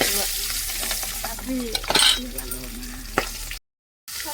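Small kantia fish frying in oil in a home kitchen, a steady loud sizzle with bursts of stirring and spattering, close by, ending in a brief silence.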